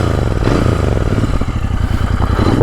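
A Royal Enfield Interceptor motorcycle engine runs on light throttle on a ride near the Baux-de-Provence, a loud, steady, throbbing drone with a slight mechanical clatter and no voice over it.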